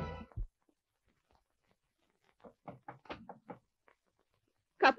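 Series of sharp knocks on a door in a comedy film interior, about five quick raps close by in a short burst, after brief quiet, with another noise at the end.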